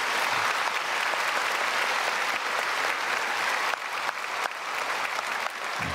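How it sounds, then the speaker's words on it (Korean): A church congregation applauds during a Sunday worship service in a large Korean church, loud sustained clapping from many hands filling the hall at a constant level, with no voices rising above it. "우리 박수로 환영하도록 하겠습니다."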